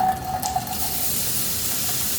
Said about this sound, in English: since we already got that sizzle going